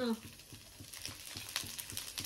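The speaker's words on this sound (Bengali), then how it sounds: "রসুনটা দিয়েছি, রসুনটা একটু ভাজা ভাজা হয়ে যাবে" Garlic and ginger fry in a pan with a quiet, crackling sizzle and rhythmic scraping or stirring pulses, brief and close, without clear speech.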